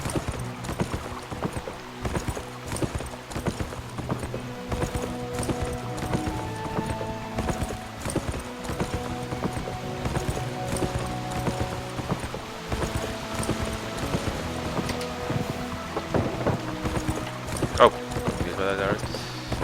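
Rhythmic hoofbeats of a galloping horse in the video game Pippa Funnell: The Golden Stirrup Challenge run continuously under music and scattered game sounds, moderately loud throughout.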